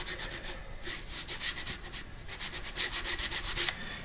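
Sandpaper rubs back and forth over a wooden tenon for a guitar neck joint, giving steady raspy strokes in bursts that swell and fade, with no talking.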